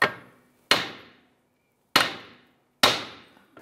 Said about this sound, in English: I'm going to strike this knuckle here to release that ball joint.